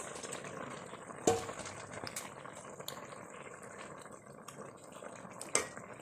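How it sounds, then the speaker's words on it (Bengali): A thin fish and ridge gourd curry, made without spices, bubbles in an uncovered pot with a soft, steady boil, broken twice by brief clinks close by. "এবার আর একটু ফুটলে আমার তরকারিটা হয়ে যাবে"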